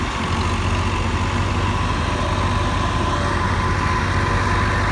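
A dump truck engine idles steadily and loudly nearby, a constant low rumble with no change in pitch throughout.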